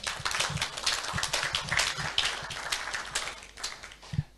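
Applause from a conference audience at a Ukrainian recovery and innovation forum, scattered claps spread across the clip with a steady, moderate patter and a few sharper individual claps standing out near the end.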